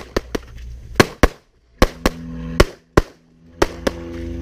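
Handgun shots at a firearms training range, a series of loud, sharp, close reports spaced irregularly with short silent gaps between them.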